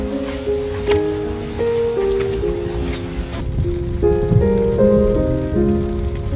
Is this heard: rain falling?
yes